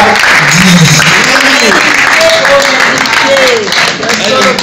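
An audience applauds the Simba group artists at an awards event, continuous clapping and crowd noise running throughout while a voice speaks over it.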